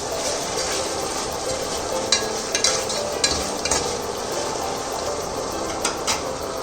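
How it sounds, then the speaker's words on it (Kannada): Tomatoes fry in a pan with ginger garlic paste, giving a continuous sizzle with occasional clicks of stirring against the pan, with no talking. "ಇವಾಗ ಇದಕ್ಕೆ 2 ಮೀಡಿಯಮ್ ಟೊಮೊಟೊನ ಆ್ಯಡ್ ಮಾಡ್ಕೋತಿದ್ದೀನಿ."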